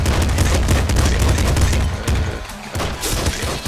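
Machine gun fire in the video game Nuclear Throne, a loud, dense, continuous rattle of shots with a brief dip near the middle, close and steady.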